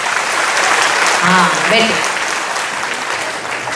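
Audience clapping loudly at a Brahma Kumaris spiritual class, a dense wash of applause with a short spoken voice and brief cheering rising over it midway.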